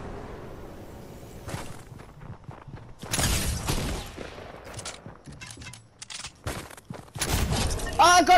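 Scattered gunshots and bursts of fire from a Fortnite match, irregular and mid-distance, some sharp close shots toward the end, with a player talking over the action.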